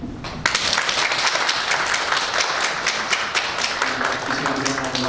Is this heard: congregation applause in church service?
yes